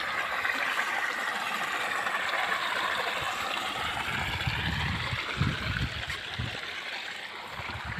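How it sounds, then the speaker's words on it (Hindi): A clear stream flowing along the Narmada parikrama route, its steady broadband rush of water continuing for the whole stretch with a few louder gurgles and splashes near the end and no voices. "ये सुंदर नाला"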